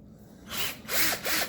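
A power drill works into material while LED lights are being mounted, giving three short, loud whirring bursts that rise and fall with brief pauses between them, with no voices.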